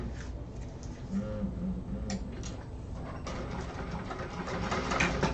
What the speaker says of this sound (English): So I'm going to top stitch right along there.